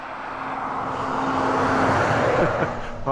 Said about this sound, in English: Hard to tell with all this traffic going by.